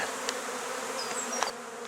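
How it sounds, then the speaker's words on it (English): Honey bees swirling around an opened hive box, a dense continuous buzz close by with a few individual bees whining past. "You saw all the bees up in the air."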